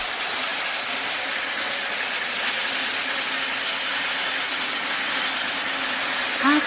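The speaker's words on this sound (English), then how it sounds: "You need to put all the sticks into this machine and press and start" A wooden toothpick stick processing machine runs with a steady mechanical rattle and ratcheting clatter, loud and continuous, with a brief squeak near the end.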